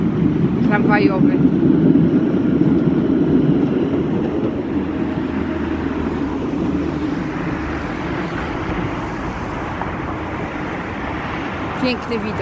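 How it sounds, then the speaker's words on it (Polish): Trams rumble across a bridge over the Oder river in Wrocław, a loud, steady low roar of wheels and traffic throughout, with someone speaking over it. "Ruch tramwajowy."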